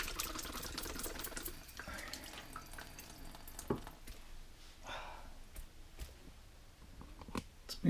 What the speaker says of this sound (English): Let's rinse my hands.